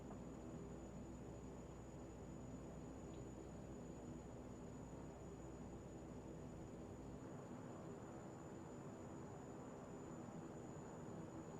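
A propeller aircraft engine in the X-Plane 11 flight simulator drones steadily and evenly throughout, with a faint constant high whine riding over a dense, noise-like hum.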